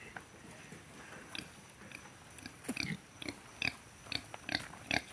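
Pigs in a pen grunt, snuffle and chew nearby, with scattered crunching bites and soft snorts growing busier toward the end, fairly faint overall and without talking.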